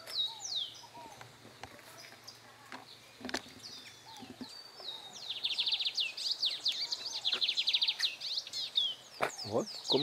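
A small bird sings in a garden with flowers, its bright chirping phrases coming faintly at first, then growing into a busier run of trills, with soft talk in the background.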